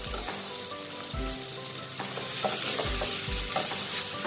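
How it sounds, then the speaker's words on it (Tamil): Okra and brinjal sautéing in a pan for a Tamil-style fish curry, with a steady close sizzle and several low scraping stirs of a spoon against the pan at irregular intervals, no talking. "இதையும் போட்டு நல்லா வதங்குற அளவு வதக்கிக்கோங்க"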